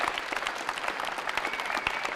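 A crowd at a strongman and strongwoman event claps steadily throughout, dense and fairly distant, with a few scattered cheers mixed into the applause.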